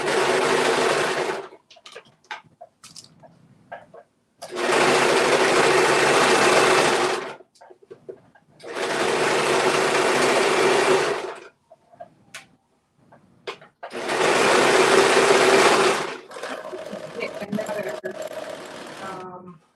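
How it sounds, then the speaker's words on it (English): A sewing machine stitching a pocket runs in four sustained bursts of rapid, loud mechanical whirring, separated by short pauses filled with small clicks and handling noises. "I'm going to do a stitch."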